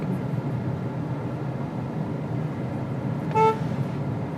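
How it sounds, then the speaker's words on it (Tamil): A 2021 Hyundai Venue compact SUV with a 1.2L petrol engine gives one short, clear honk of its horn near the end, over a steady bed of road and cabin noise. "ஸோ ஆரன்ஸுமே நல்லா ப்ரீமியமாக தான் இருக்குது."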